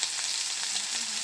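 Whole cumin, chopped onion, crushed garlic and ginger paste fry in hot oil, a bright continuous sizzle close by with faint stirring scrapes and no voices.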